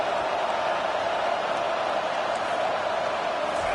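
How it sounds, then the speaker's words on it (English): A football stadium crowd at a Florida vs. Michigan game roars for the defense on third down, a dense, steady wash of cheering and noise that holds loud and unbroken throughout. "Decibels rising as the crowd gets behind this defense on third down."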